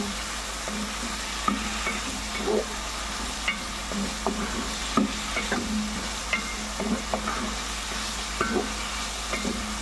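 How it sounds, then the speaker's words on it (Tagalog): String beans and tulingan fish are mixed together in a sizzling pan, giving a constant frying hiss with regular scraping and clacking stirs of the utensil throughout. "i-add natin yung ating tulingan. And then, mix na yan."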